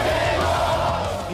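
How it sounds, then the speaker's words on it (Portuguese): A large crowd of Flamengo football fans cheers and chants in Manaus, a dense continuous roar at high level with no breaks over its short span. "A torcida, claro, sempre muito animada em encontrar o Flamengo pertinho."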